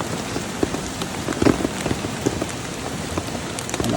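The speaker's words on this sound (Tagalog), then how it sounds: "Palakas ang ulan." Heavy rain in the Philippines pours down steadily, a dense hiss of drops hitting surfaces close by, with occasional louder splats and no voices.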